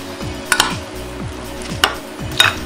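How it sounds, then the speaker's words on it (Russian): Steady, rhythmic stirring of a herring salad with mayonnaise in a bowl, soft scraping strokes punctuated by a few light clinks of a utensil against the dish. "Перемешиваем его аккуратненько."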